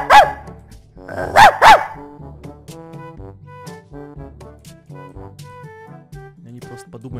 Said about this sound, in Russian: Они просто подумают, что тут собака какая-то ненормальная и свалят отсюда.